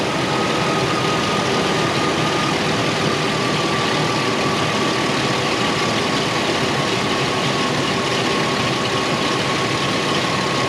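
A Ford Explorer engine idles steadily after an alternator replacement, a continuous, even hum with a faint whine running the whole time and no talking.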